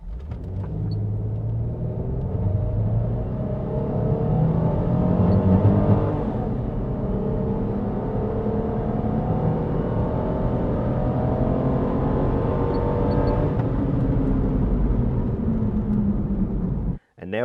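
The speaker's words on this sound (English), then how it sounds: "I'm going to put my foot flat down to the floor, just as before" A car driven with the throttle pressed flat to the floor in a snorkel head performance test, a loud sustained engine roar rising through gear changes for over fifteen seconds before cutting off abruptly, with voices audible at times.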